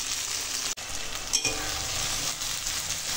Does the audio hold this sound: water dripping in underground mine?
no